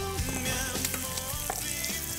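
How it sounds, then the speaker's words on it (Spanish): Finely minced garlic sizzles and crackles steadily in hot butter in a pan, a close, continuous frying hiss with small pops throughout. "Ya tengo el ajo aquí finamente picado y lo vamos a añadir. Lo vamos a añadir a la mantequilla"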